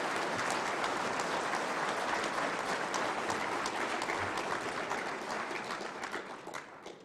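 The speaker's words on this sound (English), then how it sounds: "Let's give all of our sponsors a big round of applause this evening." Dinner audience at a Council Eagle Recognition event applauding the evening's sponsors, a dense, steady roar of many hands clapping that carries on for several seconds before thinning slightly near the end.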